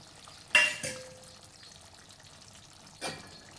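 Chicken curry with coriander being stirred in a pan: a sharp scrape and clatter, a second stroke just after, then a quieter scrape a few seconds later, with a faint sizzle underneath.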